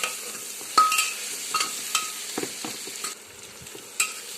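Spoon stirring masale bhat in a pan, a soft sizzle with a few scrapes and taps spaced irregularly, close and fairly quiet.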